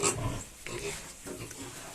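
Piglets on a farm grunt and snuffle up close in a short burst of low, rough animal sounds, with voices faintly mixed in.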